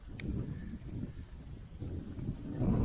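Low, gusty wind buffets the microphone in uneven rumbling surges, rising and falling across the stretch with no voices, on a road through a sunflower field.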